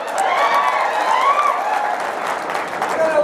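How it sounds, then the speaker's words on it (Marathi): A crowd at a public speech in Loha, Nanded claps loudly and steadily, dense close applause filling the moment with voices mixed in. "एकदा जोरदार टाळ्या होते त्यांच्यासाठीच"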